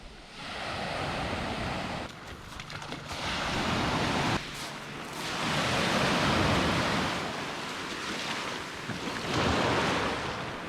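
Sea waves at Tavronitis, Crete, surge and wash in repeated swells, a broad rushing noise rising and falling, mixed with gusty wind buffeting the microphone.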